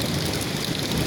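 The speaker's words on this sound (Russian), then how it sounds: "Ливень такой идет." Heavy summer downpour pounds a flooded vegetable garden, a dense, steady roar of rain with low thunder rumbling underneath, close and loud throughout with no pauses.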